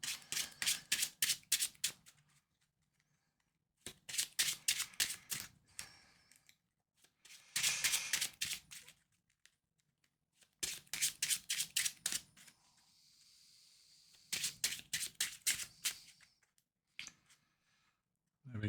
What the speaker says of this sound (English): We'll give the encounter deck a shuffle.